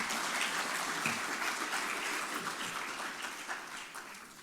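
An audience at a resilience dialogue and time capsule event applauds, a dense burst of clapping from many hands that slowly fades over a few seconds.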